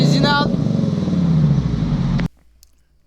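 Fiat Pratola Serra five-cylinder 20-valve petrol engine from a late-1990s car, revving loudly with a steady rough drone for about two seconds, then cutting off abruptly into near silence; a voice is briefly heard at the start.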